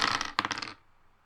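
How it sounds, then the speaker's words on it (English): A single die rolled for initiative during a tabletop role-playing game clatters across a hard surface in two quick bursts of bright rattling, then stops; close and fairly loud, no talking. "Everyone roll 1 dice and you add it to your initiative number."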